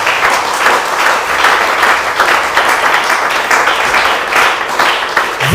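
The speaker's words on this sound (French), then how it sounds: "Acclamons la parole de l'Éternel." A church congregation at a Sunday thanksgiving service bursts into sustained applause, dense steady clapping from many hands filling the room throughout.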